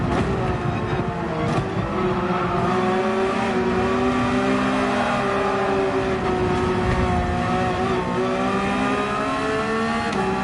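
Porsche 911 GT3 RS engine in Gran Turismo 7 holding a loud, steady high-revving drone with slowly shifting pitch, a racing game car lapping continuously with no pauses.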